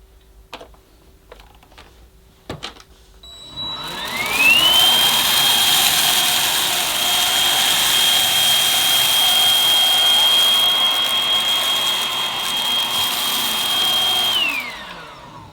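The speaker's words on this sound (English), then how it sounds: "The machine is obviously noisier on high power, but it's still a very quiet cordless machine." A Goblin 2 in 1 cordless stick vacuum cleaner on its high power setting whirs up after a few clicks, holds a steady loud whine with airy rushing suction for about ten seconds, then winds down.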